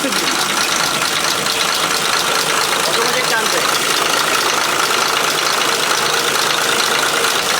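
A steady, dense engine rumble with a vibrating, knocking texture continues throughout, loud and close, with a voice speaking over it.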